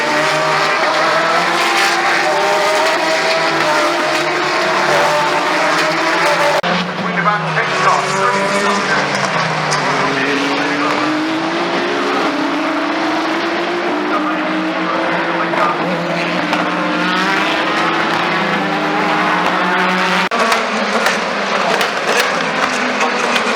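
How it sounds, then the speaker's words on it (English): Race cars at the Le Mans 24 Hours roar past trackside in a continuous, loud stream of engine noise, with rising and falling pass-bys, and a voice is audible in places beneath the din. "plenty of footage of these amazing cars driving past"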